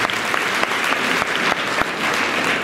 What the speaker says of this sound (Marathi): पुन्हा एकदा तिचं टाळ्या वाजवून आपण अभिनंदन करतो